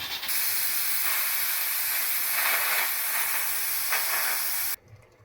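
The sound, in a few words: pressure cooker hissing steam while cooking keema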